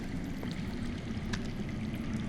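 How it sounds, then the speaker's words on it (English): Steady low rush of water flowing underground in a Game of Thrones game, a constant muffled stream with faint trickles, quiet and distant throughout. "I hear water. From underground."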